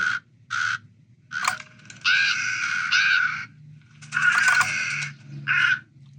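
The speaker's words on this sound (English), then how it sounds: "So there's our crow sound." A Halloween prop controller plays a crow cawing effect, a run of harsh, raspy caws in uneven bursts, some short and some drawn out, loud and clear with nothing else around them.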